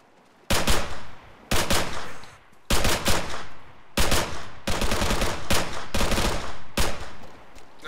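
Bursts of automatic gunfire in ArmA 3, loud and close, arriving as six or seven separate volleys over several seconds with short gaps between them and no talk over them.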